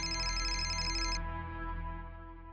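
A telephone rings with a steady electronic tone, loud and close, cutting off its upper buzz partway through while the ring continues.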